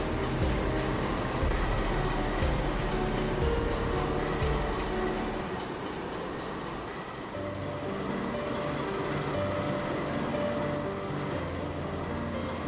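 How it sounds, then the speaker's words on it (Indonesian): In Train Simulator, a CC 201 locomotive running long hood forward hauls a freight train of 21 Pertamina tank wagons, giving a continuous low rumble and rolling drone that holds steady throughout. "rangkaian kettle KA 3502 membawa 21 gerbong KKW tangki Pertamina dan dihela oleh lokomotif CC 201-17 dengan ujung panjang di depan."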